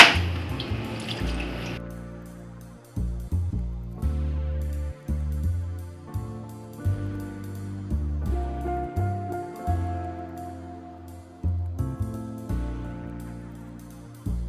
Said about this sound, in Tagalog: Then pagkatapos po, iti-drain natin.